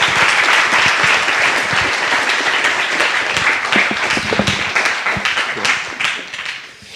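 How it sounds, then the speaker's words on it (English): Audience applause after a round of pitches at the SensUs 2023 event, dense continuous clapping from a crowd lasting several seconds before tapering off at the end. "a big round of applause for Sen's work."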